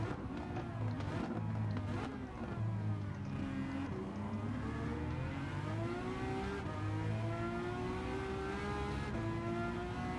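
A LaFerrari hypercar in Gran Turismo 7 at Sardegna Road A, its engine revving loudly and continuously, pitch climbing and dropping through gear changes with no talk over it.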